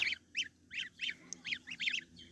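Goslings calling in a run of short, high-pitched peeping honks, close and fairly loud, coming in quick bursts with brief gaps between them.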